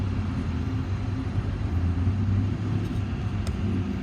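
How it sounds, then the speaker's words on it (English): A 1989 Chevy Cheyenne 3500 utility truck engine cranks over without firing, spark plug wires disconnected, giving a steady low rhythmic churning rumble heard close and continuous. "I did want to show you that the motor turns over"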